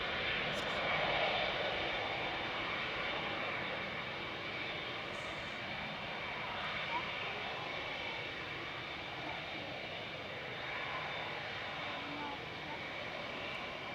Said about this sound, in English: Ryanair's EIHMW heading over to Paphos with flight